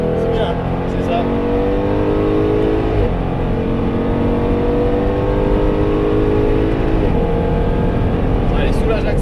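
Jaguar F-Type SVR with a 3.8 engine lapping the Paul Ricard circuit, its engine droning loud and steady throughout with rising and falling pitch as it accelerates and backs off, under occasional talk inside the cabin.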